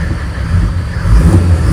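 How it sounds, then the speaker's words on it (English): A Mercedes OM606 diesel engine swapped into a Land Rover Defender revs up close and loud, a rough low rumble that swells toward the end of the short burst, with no talking. "Right, ignition on. So does it rev?"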